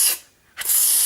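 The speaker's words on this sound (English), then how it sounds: "So pretend to sneeze but actually spray the deodorant can at them." A deodorant aerosol can sprays in two loud, hissing bursts, the first cut off after a moment and a second long spray following a brief silence, close up and alone.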